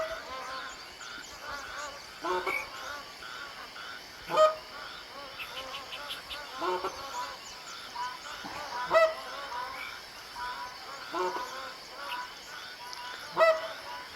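Magpie geese on a bay honk repeatedly in irregular bursts, several birds calling at moderate distance over a quiet outdoor background, some calls louder and nearer than others.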